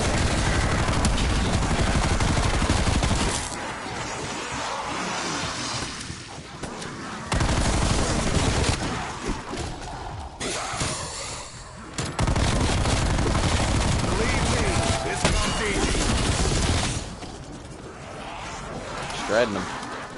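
Bursts of rapid M16 rifle fire crackle in Call of Duty's Die Machine survival mode, coming in long sustained volleys with short gaps, while a player talks over the shooting.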